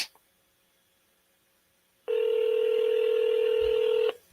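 Ringback tone of a telephone on an outgoing call: after a quiet stretch, one steady electronic ring burst of about two seconds sounds clearly, then stops.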